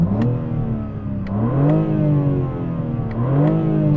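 A BMW M4 Competition revs hard in repeated bursts, engine pitch sweeping up and falling back about three times, loud and close, with no talking over it.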